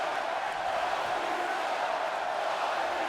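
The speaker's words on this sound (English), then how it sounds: "Listen to this capacity crowd here in Melbourne." A capacity arena crowd in Melbourne roars in the WWE 2K19 wrestling video game, a steady, dense wash of cheering that holds at an even level throughout without a break.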